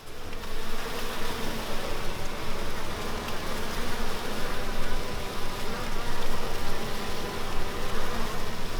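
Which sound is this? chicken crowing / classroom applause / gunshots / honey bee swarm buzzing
honey bee swarm buzzing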